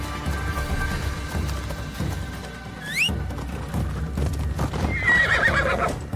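A horse ridden in Assassin's Creed Shadows: rapid clip-clop hoofbeats run steadily throughout, with a sharp rising whinny midway and a shakier neigh near the end, loud and close under game music.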